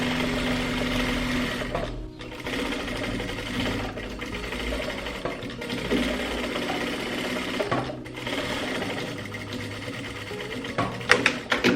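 A sewing machine runs steadily, stitching a seam on a long flared bustier dress, with a continuous close mechanical whir and brief stops in its run.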